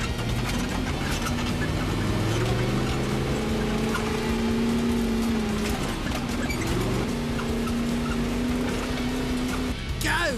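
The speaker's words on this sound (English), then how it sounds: "a short wheelbase Toyota with a big Chev engine" A short-wheelbase Toyota 4WD fitted with a big Chevrolet engine and large tyres labours along an off-road bush track. Its engine drones steadily and rises and falls in pitch at moderate distance.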